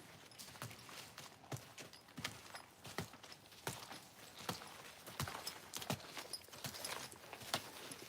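Hooves clip-clop in a steady walking rhythm, each step a distinct knock on a hard surface, fairly faint with quiet surroundings.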